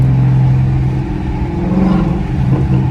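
A Camaro 2SS engine revs and rumbles up close, loud and steady, with crackling pops from the exhaust scattered through the roar.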